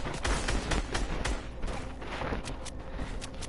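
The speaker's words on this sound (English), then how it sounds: "I only hit headshots with shotgun" Rapid shotgun blasts from a video game fire in a quick irregular series, loud and close, with no talking over them.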